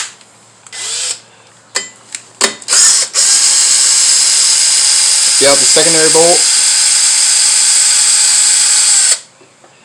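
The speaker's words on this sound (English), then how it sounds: "We're going to take our Milwaukee drill," Milwaukee power drill whirs loudly and continuously at close range while removing the secondary bolt on a Can-Am Outlander CVTech clutch, after a few short bursts, with someone talking briefly beneath it.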